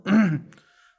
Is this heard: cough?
yes